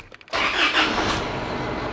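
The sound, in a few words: car engine starting up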